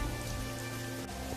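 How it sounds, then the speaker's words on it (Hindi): Heavy rain pours in cold weather, a dense, steady roar of drops on surfaces with no pause and no voices, under a faint low hum. "बारिश थी कि रुकने का नाम तक नहीं ले रही थी"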